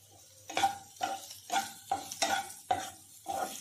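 Potato sabzi with chopped coriander stirred in a hot pan, with about seven rhythmic scraping strokes of a spoon over a soft sizzle.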